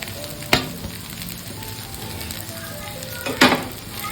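Potato and grated coconut sauté in a pan with a steady low sizzle, broken by two louder scraping stirs near the start and end; no talking.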